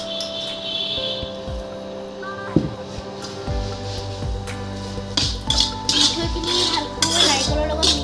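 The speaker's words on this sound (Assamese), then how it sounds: "এতিয়া আমি নাৰিকল আৰু মিঠৈখিনি অলপ ভাজি ল'ম" Grated coconut and sweetener being stirred in a pan for coconut sweet dumpling filling: a metal utensil clinks and scrapes against the pan in irregular bursts over a low steady hum, with no talking.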